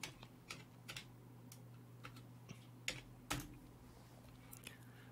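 Faint, sparse keystrokes on a computer keyboard as a place name is typed into a search box, with irregular light clicks over a low steady hum.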